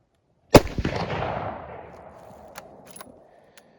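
A single loud rifle shot cracks out close by, its boom rolling away into a long fading echo, followed by a few faint clicks.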